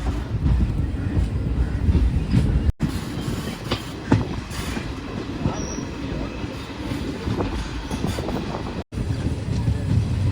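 The Villupuram Intercity Express passenger train rumbles steadily along the tracks, with a broad roar, rhythmic wheel clatter and occasional faint squeals, close and continuous throughout.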